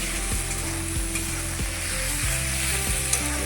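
Steady, close sizzling of taro stems frying in hot oil in a wok, with a few soft scrapes of a utensil stirring. No voices.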